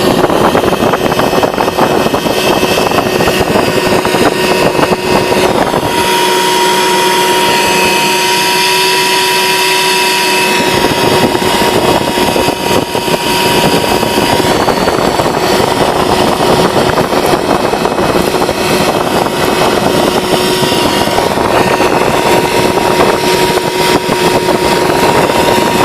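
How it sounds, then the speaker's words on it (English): A loud, steady motor whine from a combined vacuum cleaner and blower, sucking up material, runs continuously, with a brief shift in pitch partway through. "It works as a vacuum cleaner and as a blower"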